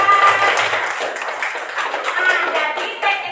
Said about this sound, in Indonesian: tepuk tangan buat Salsa